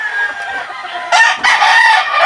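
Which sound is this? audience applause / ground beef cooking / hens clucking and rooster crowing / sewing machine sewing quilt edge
hens clucking and rooster crowing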